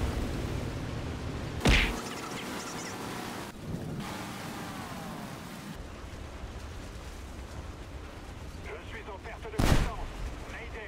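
Gunfire and blasts in the aircraft combat game War Thunder: two sharp loud bangs about eight seconds apart over a rumbling, surf-like background of battle noise.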